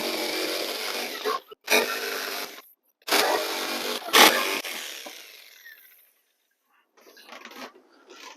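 A masonite board is sawn in several short bursts of broadband rasping, each a second or so long, separated by brief pauses, then a quieter stretch near the end while setting up a backdrop.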